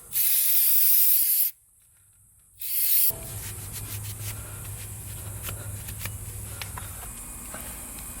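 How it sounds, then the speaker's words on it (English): Brake cleaner sprayed onto the rusty rear hub of a 2008 Ford Taurus X, two loud hissing aerosol bursts split by a short gap, followed by quieter dripping and shop noise. "we're going to spray it down with some brake clean"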